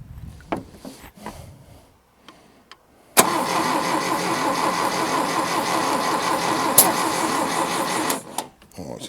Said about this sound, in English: so that's a fire through a carburetor